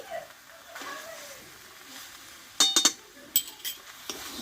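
Banana flower curry with chickpeas gets stirred in a pan after ghee and garam masala go in: a soft, steady cooking hiss, then a few sharp clinks and scrapes of a metal spoon against the pan near the end.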